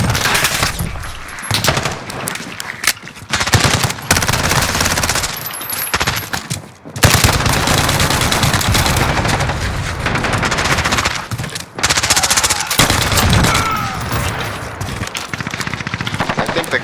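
Rapid automatic gunfire from Call of Duty: Modern Warfare (2019), loud bursts of shots crackling almost continuously with brief pauses between volleys, a voice talking over the fire at times.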